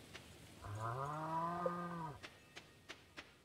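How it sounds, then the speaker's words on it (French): A single drawn-out cow moo in Stardew Valley, a farm video game, rising then settling over about a second and a half, clear and alone, followed by a few soft clicks. "Je peux toujours pas traire les vaches."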